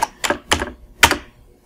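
Keys struck on a computer keyboard, four or five sharp, close clicks in a short uneven burst, with no talking.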